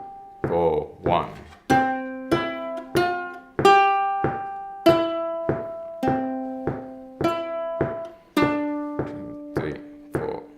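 Plucked ukulele notes pick out the When the Saints riff in a beginner lesson, a clear line of single ringing notes in a steady beat, each note decaying before the next.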